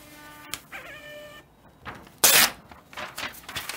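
An ECG machine prints a paediatric ECG at close range, with steady electronic tones early on, then a sudden loud burst of mechanical printing noise and softer intermittent clatter.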